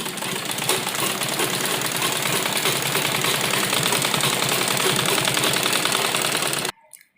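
A sewing machine stitches an Afghani salwar in a fast, steady, loud mechanical whirr and rattle that runs without a break, then stops abruptly near the end.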